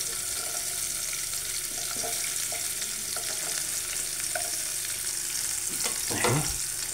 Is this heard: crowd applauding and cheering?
no